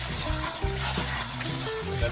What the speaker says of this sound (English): we're just gonna rinse some of the excess salt off with cold